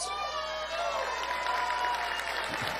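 Large crowd at CPAC, the Conservative Political Action Conference, cheering and whooping with scattered applause, a dense continuous roar of many voices across the whole stretch, with a speaker's voice faintly over it.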